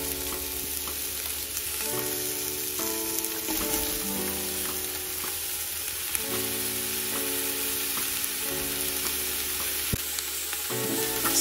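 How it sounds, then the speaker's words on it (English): Carrots, celery, onions and garlic stir-frying in oil in a soup pot, a loud continuous sizzle with repeated scraping stirs and occasional clinks, close up with no talking. "Stir fry them to bring out their flavors."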